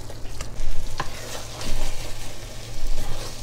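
A spoon stirs flour into a clam chowder base in a pot on the stove, giving rhythmic scraping and sizzling strokes in repeated bursts without talk.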